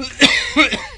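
A man gives a couple of short, close coughs, two rough bursts about a third of a second apart, with no other sound around them.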